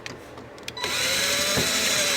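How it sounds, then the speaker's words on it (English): A cordless power drill driving a screw into the arm panel of an Osaki OS-7200H massage chair during assembly, a few faint clicks, then a loud steady whirring buzz close by for over a second, no speech. "And then we'll take our drill,"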